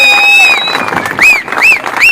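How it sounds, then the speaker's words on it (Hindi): Loud, close whistles rise and fall in repeated swooping bursts from a hall audience at a company programme, layered over a busy wash of cheering and clapping. "जोरदार तालियों के साथ अपने जगह पे खड़े हो सकते, तालियां बजा सकते, सीटियां बजा सकते"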